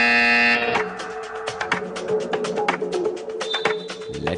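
A basketball game buzzer sounds at the start as a loud, sustained tone, then cuts off into busy arena noise full of crowd cheering and bright, repeated sharp hits.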